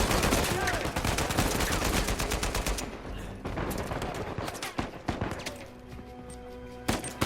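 Rapid bursts of gunfire crackle through an Uncharted 4 firefight, dense and continuous at first, then thinning into scattered single shots and sharp impacts.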